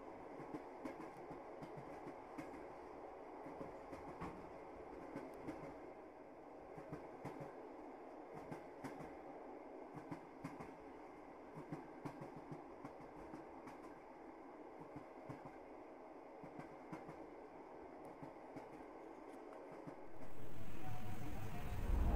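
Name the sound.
train wheels clacking on rails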